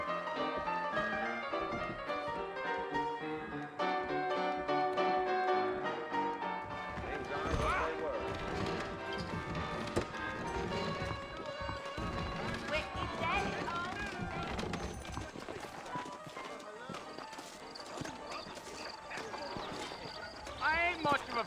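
Horse hooves clip-clop steadily under a dense music bed in the video game Red Dead Redemption, a rhythmic trotting that runs throughout without voices.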